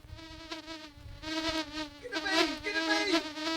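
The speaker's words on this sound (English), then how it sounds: "he's playing the bees like into a keyboard thing" Bee buzzing samples played on a keyboard in a drum and bass track, a loud, pitched, insect-like drone in repeating pulses.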